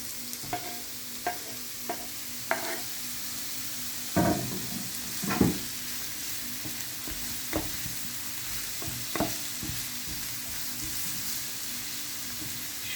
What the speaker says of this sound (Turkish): Şimdi de domatesiyle biberlerini ilave ediyoruz.